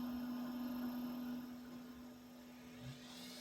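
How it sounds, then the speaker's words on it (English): Part cooling fans on a Creality Ender-3 V3 KE 3D printer running Klipper whir steadily with a constant hum, holding a quiet even drone that eases slightly partway through, with no voices. "where both of the fans, the part cooling fans, are running"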